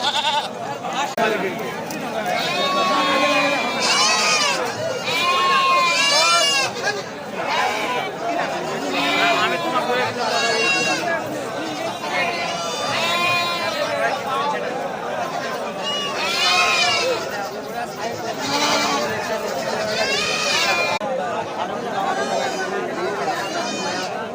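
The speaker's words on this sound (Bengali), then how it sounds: "ছাগলটা দেখা যাচ্ছে।" Goats bleat repeatedly, near and loud, at a busy goat market in Sotihat, Manda, Naogaan district, with crowd chatter and voices throughout.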